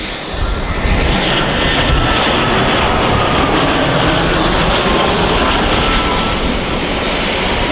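A TUI Boeing 787 Dreamliner taxiing at Manchester Airport gives off a steady, loud, broadband jet-engine roar that holds constant throughout, with no voices.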